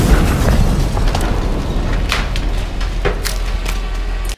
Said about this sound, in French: Faire péter une Porsche, c'est un rêve d'enfant pour plein de gens